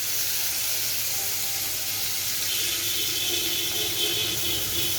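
Pointed gourd pieces rubbed with salt and turmeric fry in hot oil, making a loud, unbroken hiss and sizzle throughout, with no voices.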